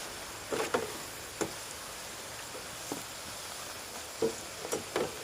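Pommes soufflées potato slices fry and puff in hot oil while being stirred, producing a soft continuous sizzle broken by several brief clicks and taps of the utensil.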